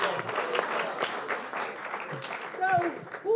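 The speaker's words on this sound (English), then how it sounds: "a big applause for the third place" Applause at a green finance training session honours the third-place group, a moderate patter of clapping running under and between people talking.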